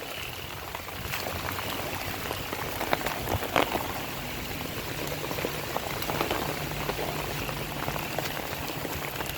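Steady, dense rain hissing down hard and continuously in a forest at night, with scattered louder drips and splashes close by and a low background rumble.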